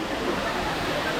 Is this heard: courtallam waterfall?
yes